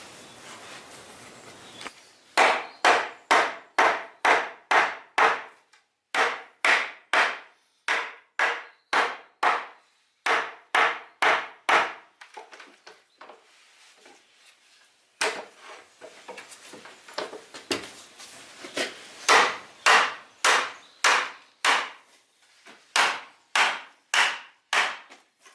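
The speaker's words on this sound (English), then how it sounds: "Cut the chamfer ends on these to help them run into the holes, just with a knife there." A knife cuts chamfers into the ends of wooden dowels in rapid bursts of sharp scraping strokes, close and loud, with short pauses between sets and no voices.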